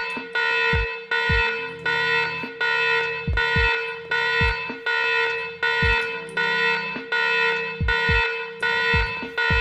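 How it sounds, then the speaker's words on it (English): A Wiremod alarm in Garry's Mod, activated by a button, sounding loud, repeated harsh buzzer-like electronic blasts in a steady rhythm, about ten pulses with short breaks between them, alone and without talk. "If all you wanted to do is how to set up an alarm, there you go."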